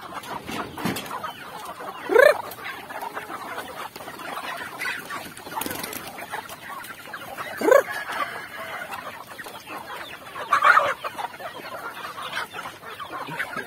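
Hungry chickens in a backyard coop cluck while being fed, three distinct squawks spaced several seconds apart over a quiet, shuffling background with no voices.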